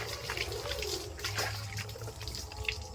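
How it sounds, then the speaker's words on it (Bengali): Water splashes and trickles steadily as it is poured over a person's body during a wash, with a continuous close running sound and faint background hum. "গায়ে জলটা নিয়ে নিই"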